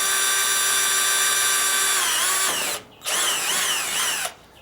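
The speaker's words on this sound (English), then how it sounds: "Okay, so I'm just going to drill a hole through here." Power drill boring a hole through the plastic rear bumper of a 1985 Ferrari Mondial QV, a loud steady high whine that bogs and shifts pitch as the bit bites, with two brief stops, close up and with no talking.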